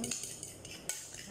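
A spoon stirring banana cake batter in a bowl, with a few faint clinks and scrapes against the sides in quick, uneven strokes.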